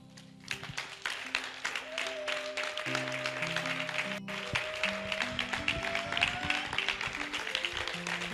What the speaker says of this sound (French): tiens-toi simplement debout et donne une offrande d'acclamation à Jésus